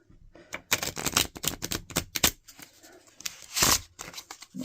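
A deck of Fantasma playing cards being shuffled, a run of crisp rapid riffling bursts and snaps, close and loud, with short gaps between the flurries.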